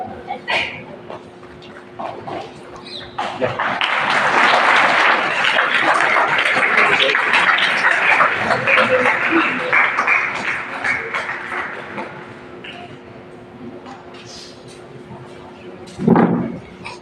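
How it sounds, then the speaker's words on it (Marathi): A school audience at a high school event bursts into loud, sustained clapping for several seconds, spread across the room, then fades back to room noise, with brief speech before and after. "आदरणीय मुख्याध्यापक आणि सर्व अतिथी जोरात टाळ्या वाजवेल"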